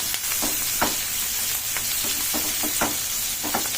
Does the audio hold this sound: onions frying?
yes